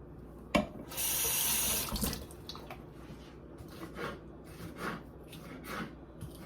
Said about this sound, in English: You rinse your lettuce off because bugs and everything are on there.